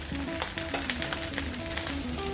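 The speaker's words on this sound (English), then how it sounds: "In seafood, same, we'll give it a few turns only so it stays al dente when placed on rice." Seafood for a lobster paella being stirred and frying in a paella pan: a close, lively sizzle with short crackles and scraping turns, alone without talk.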